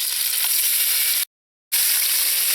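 Tofu frying in oil in a pot, a loud, close, steady hiss and sizzle that drops out briefly to silence midway before resuming at full strength.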